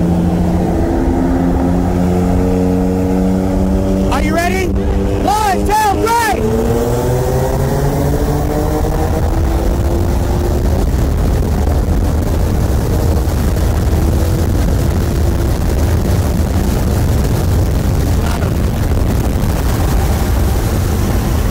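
A BMW M2 Competition with bolt-ons and a BMW 335i with N54 engine and Pure 600 turbos race from 60 mph, steady loud engine roar and wind noise throughout, with a brief rising whine near the start.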